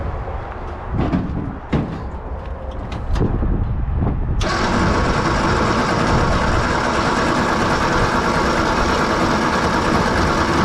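A 1954 Ford F100 truck engine, left abandoned for decades, cranks in a few uneven bursts before catching into a loud, steady running roar that fills the rest of the clip, close up with no talking.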